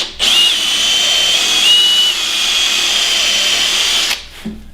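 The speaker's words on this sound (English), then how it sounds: "I'm just stepping up in drill bits real slow so it doesn't tear it out" A power drill boring into wood while stepping up bit sizes slowly for a woodturned kendama, one loud steady whine lasting about four seconds before stopping abruptly.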